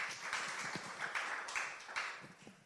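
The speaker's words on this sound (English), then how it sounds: "A round of applause for Calvin" Audience applause for guest Calvin at a panel discussion on new media entrepreneurship, a steady patter of many hands clapping at moderate distance, fairly quiet, with no talk over it.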